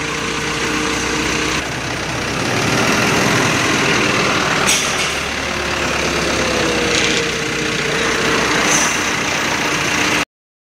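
A hydra crane's diesel engine runs steadily while moving pipes on a construction site in Guwahati, a loud continuous rumble with a few brief metallic clanks and hisses and no talking.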